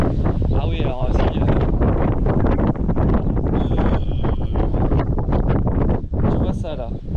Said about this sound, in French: Ce vent des enfers.